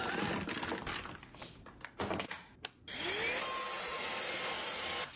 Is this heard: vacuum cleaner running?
yes